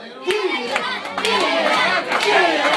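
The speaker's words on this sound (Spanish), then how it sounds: "Fuertes los aplausos, grito" A party crowd claps and cheers together, dense close applause with shouting voices mixed in, continuous and loud throughout.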